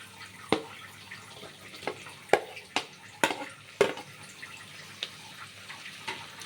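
Tomatoes for pulao sizzle in a pan over high flame, a steady close hiss broken by sharp spatula scrapes and knocks at irregular intervals.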